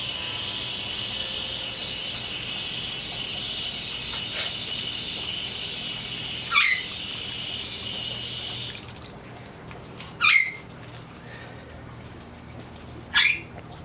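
Water from a garden hose rinsing vegetables outdoors, a steady hiss of spray that stops partway through, with a few sharp bird chirps and crickets in the background.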